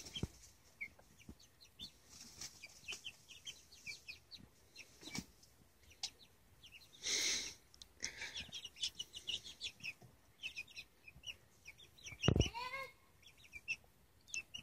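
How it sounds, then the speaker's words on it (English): Chickens clucking and chirping close by, with scattered soft squawks, a brief flutter or rustle midway and a sharper bird call near the end. "I've got chickens on me."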